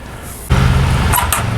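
Lawn care machine running across the street, a steady loud motor drone that starts abruptly partway through and continues with a brief higher whine near the end.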